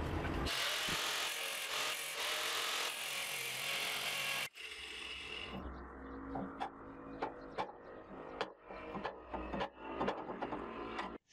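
A flat iron bar is cut with a power tool, giving a loud, harsh, continuous grinding rasp for several seconds, then quieter clanks and ratcheting clicks as the metal is handled.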